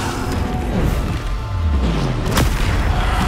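Bombarda explosion spell cast in the Hogwarts Legacy video game, a dense booming blast with crashing debris over continuous loud combat noise, with a sharp impact near the end.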